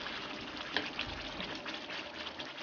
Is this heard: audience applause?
no